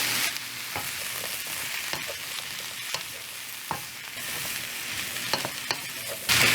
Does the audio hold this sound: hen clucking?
no